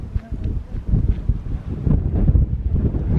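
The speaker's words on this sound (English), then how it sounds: "Man, that wind is really picking up." Strong gusts sweep through the Rhyolite ghost town in Nevada, loud and close, buffeting the microphone in uneven rumbling surges with rustling bursts and no speech.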